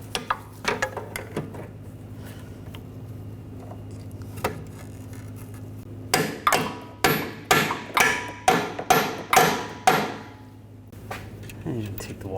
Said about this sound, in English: Take a smaller hammer.